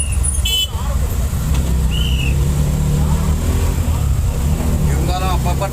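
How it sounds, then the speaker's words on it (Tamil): Busy city road traffic with car engines rumbling steadily throughout, slowed by metro construction work, with a brief horn toot early on and faint voices mixed in. "இன்றைக்கி டிராஃபிக் பாருங்கள் எந்த அளவு இருக்குது"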